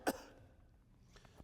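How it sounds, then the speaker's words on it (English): A single short, sharp cough close to the microphone, followed by quiet room tone and a few faint rustles. "I think I've got to cough for just a moment."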